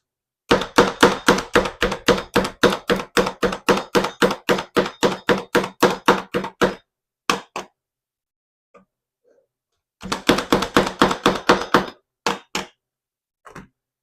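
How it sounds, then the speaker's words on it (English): A knife chops cilantro finely on a board in fast, even rhythmic strokes, close and crisp, then pauses before another quick burst of chopping and a few last taps. "We are going to chop it because we want it fine"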